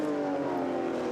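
Group 5 race cars on a high-speed demonstration run, heard as a steady distant engine drone, faint and continuous with no distinct pass-by.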